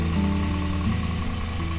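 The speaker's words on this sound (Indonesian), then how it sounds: "Dan untuk mesin trimmer yang saya gunakan ini" A small electric hair trimmer used for cutting a young child's hair hums steadily and close up, a constant motor whine with no talk.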